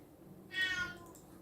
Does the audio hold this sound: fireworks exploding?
no